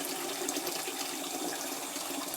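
Water runs steadily from a tap into shaving cream in a bathroom, a continuous close hiss and splash with no pauses or talk.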